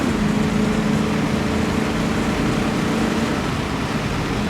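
A 1965 Ford Mustang with Holley Sniper 2 fuel injection gives a steady, loud engine drone with a low hum that runs continuously, like a car cruising along without pause.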